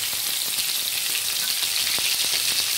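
Stuffed brinjals sautéing in hot oil for Chettinad-style gravy, an even, close crackling sizzle with a few faint taps of a spoon against the pan; no voices.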